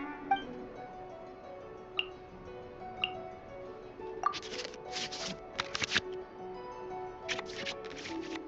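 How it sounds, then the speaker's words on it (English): Digital card-shuffle effects from the Genius Invokation card game in Genshin Impact: a few soft clinks and ticks, then quick papery riffling bursts repeating over a quiet interface hum. "we can select any number of cards in our hand to shuffle back into the draw pile, and then draw the same number of new cards"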